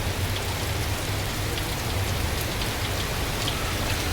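Heavy rain pours down in Thailand as a dense, unbroken hiss of drops hammering surfaces, loud and constant throughout, with no voices.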